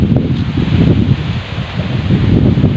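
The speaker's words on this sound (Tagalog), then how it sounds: "malakas ang hangin to ya ah" Strong wind roars steadily against the microphone by a river, a dense low rumble with gusty surges throughout and no voices.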